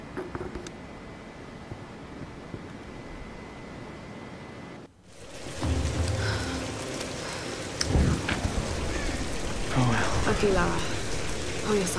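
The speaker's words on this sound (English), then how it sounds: "We're getting closer to the storm." A thunderstorm in Tomb Raider Definitive Edition brings steady rain hissing on surfaces, then a sudden gap followed by heavier downpour and rumbling thunder, loud and enveloping with scattered splashing drops.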